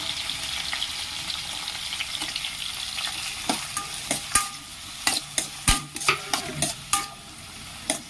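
Capsicum, green chilli and onion frying in a pan for chilli parotta, a steady close sizzle with scattered sharp scrapes and knocks of stirring that grow busier toward the end.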